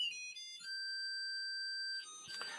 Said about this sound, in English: one of my servers, it has a beep speaker, and I have it play a certain little song at a certain time